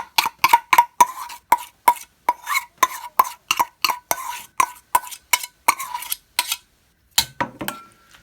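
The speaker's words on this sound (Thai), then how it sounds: "แล้วก็ผสมให้เข้ากัน" Grated vegetables, cabbage and taro are stirred and mixed in a bowl, the utensil knocking against the bowl in a brisk, regular series of close clinks and scrapes, then a short pause and a few softer rustling strokes.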